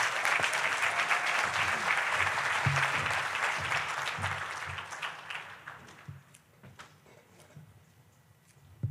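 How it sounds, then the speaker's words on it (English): A conference audience at a violence prevention general session breaks into warm, full applause that holds steady, then gradually thins to scattered claps and fades out. "please join me in a round of applause for Dr."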